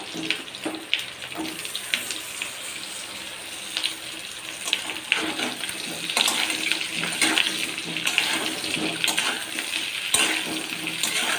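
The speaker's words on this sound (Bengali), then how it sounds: "এবার আমি বড়াগুলো একে একে করে দিয়ে দেবো অল্প নাড়িয়ে চাড়িয়ে নামিয়ে নেবো" Fish roe fritters fry in hot mustard oil, a dense crackling sizzle that stays close and fairly steady, with scattered pops and a little stirring. No one speaks.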